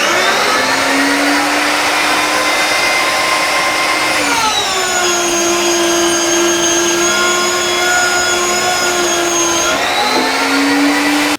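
A woodworking power tool cuts with a dust collector running, a loud steady motor whine that drops in pitch under load for several seconds before rising again, continuous with no talk.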